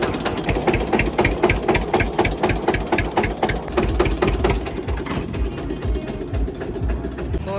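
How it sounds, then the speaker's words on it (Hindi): Tractor engine running during a ride to a village sugarcane centre: a steady, close mechanical chugging with a regular rattling pulse that continues throughout. "चलते हैं ट्रैक्टर राइड के साथ"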